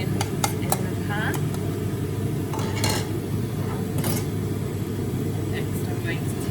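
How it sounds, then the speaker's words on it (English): Onions go into a pan and are stirred with a spoon, giving scattered scrapes and clinks of metal on the pan over a steady low rumble, with a voice talking at times. "So I need a spoon to stir. Put the onions in the pan."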